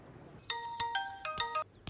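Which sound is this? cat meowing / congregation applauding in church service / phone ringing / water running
phone ringing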